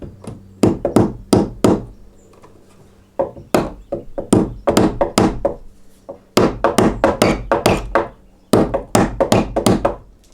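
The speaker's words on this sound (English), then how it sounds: "I ended up nailing it in there with the hammer sideways" A hammer strikes a nail in quick bursts of sharp knocks, several blows at a time with short pauses between, close and loud.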